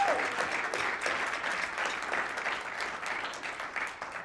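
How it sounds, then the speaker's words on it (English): Audience applause at a Wisconsin choral conference's all-state jazz choir session, a dense steady wash of clapping from a sizeable crowd, moderately loud and sustained throughout. "Please give a round of applause for these folks."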